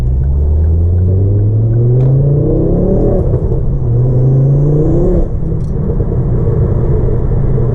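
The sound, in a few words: Ford Focus ST engine and exhaust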